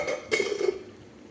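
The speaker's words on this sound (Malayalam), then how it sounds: "മൂടി വെക്കട്ടാ" A lid is set on a cooking pot of pineapple kichadi: one sharp metallic clink followed by a short ringing rattle, close and clear, with no talking.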